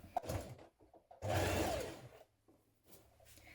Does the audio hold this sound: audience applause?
no